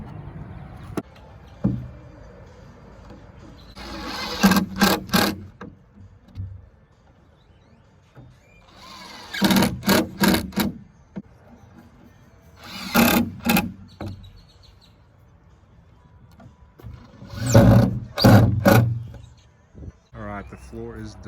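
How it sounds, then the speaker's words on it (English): Floor boards on a KidKraft Hilltop wooden playset are screwed down in four separate bursts of pulsing mechanical driving, each lasting a second or two, with quiet gaps and light handling noise between them. "Now we're gonna evenly space these boards down and screw them down."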